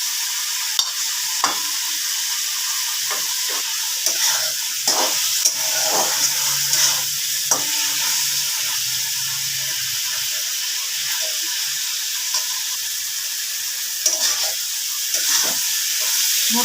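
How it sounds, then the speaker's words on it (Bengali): Mixed vegetables with tomato and green chili frying in a pan, giving a steady close sizzle and steamy hiss with scattered scrapes and knocks of a stirring spoon throughout, no talking. "মোটামুটি ভাজা হয়ে এসছে।"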